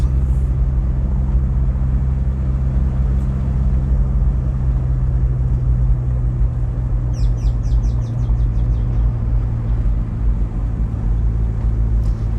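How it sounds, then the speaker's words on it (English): Car interior on a bumpy country road near Bogue toward Balaclava, St. Elizabeth, Jamaica: a loud, steady low engine and road rumble, with a short burst of bird chirps heard faintly from outside. "So we're having some bumpy ride, so enjoy it."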